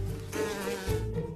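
Wasp beating its wings in a courtship display, a steady close insect buzz that swells and holds over a low hum, with no voices.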